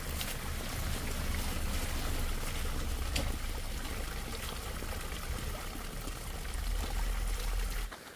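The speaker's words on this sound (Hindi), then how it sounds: "यहाँ पर पहाड़ी से एक बहुत प्यारा सा छोटा सा झरना बह रहा है।" A small mountain stream pours from rock in hilly country, a close, steady broadband rush and splash of flowing water that fills the whole stretch without voices.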